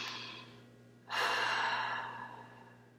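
A single deep inhale and long exhale during an EFT tapping exercise for hand pain, close and soft over a faint steady hum.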